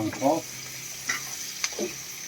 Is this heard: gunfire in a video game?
no